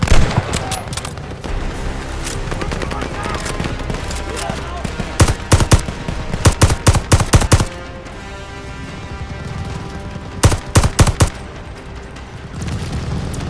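Battle gunfire in the Call of Duty Vanguard video game: loud rattling bursts of automatic fire and single shots burst out repeatedly over a constant, dense roar of combat noise.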